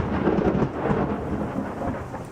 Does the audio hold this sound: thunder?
yes